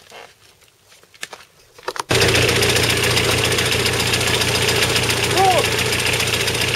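Superpony microtractor engine started with its alternator connected, running steadily and loud up close, a continuous idling drone that begins abruptly after a couple of seconds of quiet handling noises.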